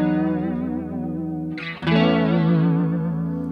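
An electric guitar plays sustained chords through a NUX CH-3 chorus pedal, its shimmering, wavering tone holding, breaking briefly and then ringing out again; loud and close, with no talking.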